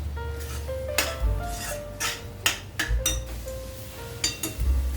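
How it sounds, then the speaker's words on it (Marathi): A spoon stirs a thickening carrot-sweet mixture for gajar vadi in a pan. Close, irregular metallic scrapes and clinks come every half second or so, with no talk. "आता थोडं लक्ष द्यायचं नाही तर खाली लागायला नको सारखं हलवायचं आहे"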